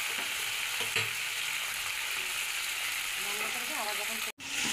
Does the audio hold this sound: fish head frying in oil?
yes